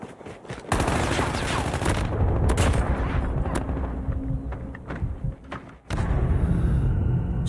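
Sniper and other gunfire in a video game arena match, with sharp loud shots and rapid bursts crackling close by, a brief gap near the end before the firing resumes.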